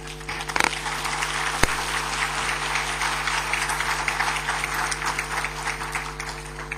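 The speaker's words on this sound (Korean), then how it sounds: "우리 목사님 나오실 때 박수로 우리 모시도록 그렇게 하겠습니다." A church congregation applauds as the visiting pastor comes forward, a sustained, moderately loud patter of clapping with a steady low hum beneath and no talk.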